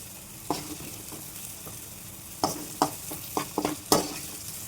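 Sliced okra fries in a kadai, a soft sizzle running under sharp intermittent clinks and scrapes of a utensil stirring and lifting the pieces from the pan.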